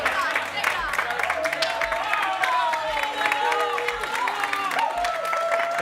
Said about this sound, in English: The crowd is going absolutely wild here for our studio audience.